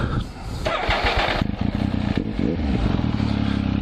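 A motorcycle engine cranks on its starter button and catches, settling into a loud, close, lumpy idle with mechanical clatter.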